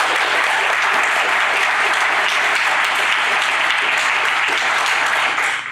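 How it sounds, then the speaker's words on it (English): An audience at a university senior reading event applauds steadily and loudly, a dense continuous wash of clapping that holds for several seconds before starting to taper at the end. "Let's give her a round of applause for that."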